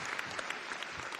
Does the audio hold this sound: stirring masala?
no